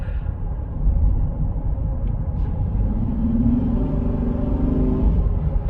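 A 2019 Honda Pilot engine fitted with an AEM intake drones steadily at light part throttle, a continuous low rumble that rises slightly in level partway through. No one speaks.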